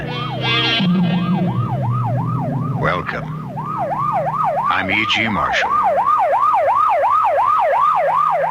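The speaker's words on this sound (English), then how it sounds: "You know it's a police car or ambulance on the way to or from an emergency" A rapidly wailing emergency siren from an ambulance or police car, used as a radio drama opening effect, rising and falling in a fast, steady cycle throughout, loud and close. A voice speaks briefly over it near the start and middle.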